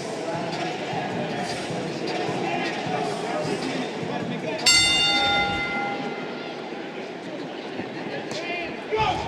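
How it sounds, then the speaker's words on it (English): A boxing ring bell rings sharply once to mark a round in a super lightweight championship bout at a Baltimore casino, its bright metallic tone ringing out and decaying over arena crowd noise while commentators talk. "The bell in round 7."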